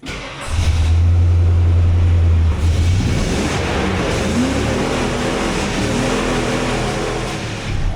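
A 1996 Ford F-350 with a 351W V8 runs as it warms up. A deep steady rumble starts abruptly, then gives way to a rougher, wind-buffeted engine roar that stays loud and close throughout.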